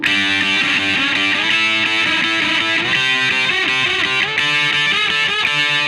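A loud, heavily distorted electric guitar through a Boss DS-1 distortion pedal, tone knob at 12 o'clock, plays dense sustained chords with a thick, buzzy, saturated tone, continuous and close throughout.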